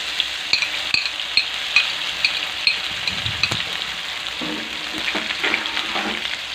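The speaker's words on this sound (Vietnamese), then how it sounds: "Đó, cho sả ớt vào phi thơm lên." Steady, fairly loud sizzling of lemongrass and chili frying in caramelized sugar in a pot for braised duck, with periodic stirring scrapes and clinks over the constant hiss.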